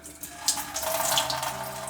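Tap water runs steadily while a dog gets a flea bath, head tilted up so the stream flows backward off the face; a close, continuous splashing rush with no talk.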